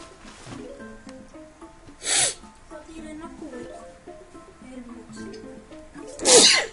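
Two sharp sneezes, one about two seconds in and a louder one near the end, break through casual conversation among people chatting during a Plants vs. Zombies gaming session.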